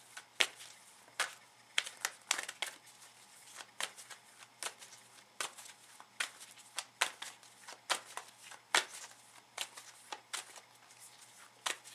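Tarot cards shuffled close up in a quiet room, a long run of sharp riffling bursts at an irregular rhythm, soft and crisp with near silence between them.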